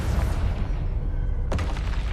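A Confringo spell blast in Hogwarts Legacy lands as a single sharp burst near the end, cutting through a dense, loud rumble of game noise.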